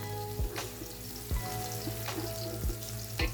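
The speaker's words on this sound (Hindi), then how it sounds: "और इनको थोड़ा सा फ्राई करेंगे।" Whole spices (bay leaves, cardamom, star anise, cloves and cinnamon) frying in hot oil for chicken pulao, a soft steady sizzle with occasional clinks and stirring knocks at regular intervals, no talking.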